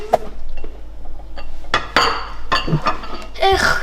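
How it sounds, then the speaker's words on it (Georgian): Dishes being washed at a kitchen sink: scattered clinks and clatters of crockery and cutlery knocking together, a few sharper bangs near the end, close by over a faint background hum. "ეხ, ჭურჭლის გარეცხვა მაინც არ ამცდა"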